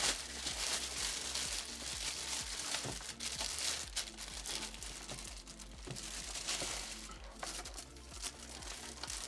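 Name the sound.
unpacking a Thrustmaster T500 RS wheel box, crinkling packaging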